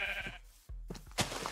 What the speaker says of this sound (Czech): A teď my máme ovce.